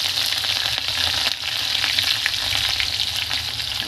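Cumin, mustard seeds, curry leaves and green chillies sizzle in hot oil for upma, a loud, continuous crackling fry that holds steady throughout with no voices over it.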